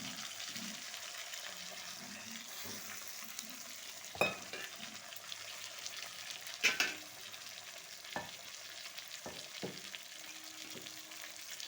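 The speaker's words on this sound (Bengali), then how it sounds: "এবার একটু ভালো করে কষিয়ে নেব।" Spices with turmeric and salt being stirred and fried in a pan for a tangra fish curry, a steady soft sizzle with a few sharper scrapes and clinks of the spoon, close by with no talk.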